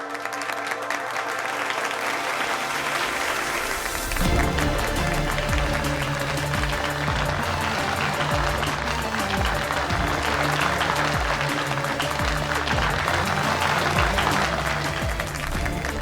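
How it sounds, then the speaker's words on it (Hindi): An audience breaks into sustained, loud applause at a school student-of-the-year award ceremony, dense clapping rising after a few seconds and continuing steadily throughout. "सरदारनी कमलदीप कौर सिद्धू जी के लिए तालियां।"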